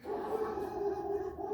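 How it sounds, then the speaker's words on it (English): Dogs fighting in the distance, a brief faint howling, yelping tone carried from far off, heard alone for a moment. "Some dogs fighting over there or something."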